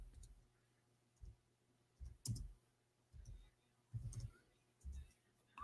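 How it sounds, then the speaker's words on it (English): Sparse, quiet keystrokes on a computer keyboard, about seven isolated taps spaced roughly a second apart against a low background. "I'm typing in English."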